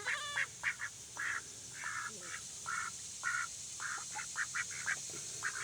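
Ducks at an off-grid solar cabin quack in quick, repeated nasal calls, several birds overlapping in uneven bursts close by against a steady background hiss.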